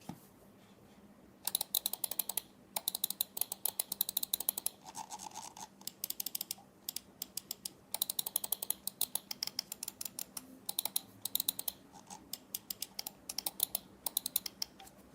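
Rapid bursts of crisp, light clicks from a Vortexseries Inno X2 gaming mouse, pressed in quick runs separated by short pauses, close and clear with no talking.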